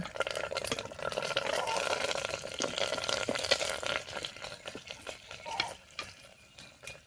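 Curry leaves, with cumin, sizzle in hot oil for a tempering for gongura chicken curry, a soft crackling hiss that fades in and out alone.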